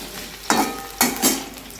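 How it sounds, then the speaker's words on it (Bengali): Potatoes fry in oil in a pan, cooked for a fish-head muri ghonto, crackling in a steady close sizzle with two sharper stirring scrapes and bursts about half a second apart. "এখন আলুগুলি ভেজে নিই, তারপর পেঁয়াজ দিয়ে দেব।"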